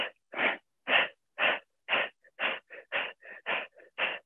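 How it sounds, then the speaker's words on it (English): Rapid, forceful breath-of-fire yoga breaths puff out in a steady rhythm, about three per second, close and clear with no talking. "air comes out through the mouth or nose or both forcefully"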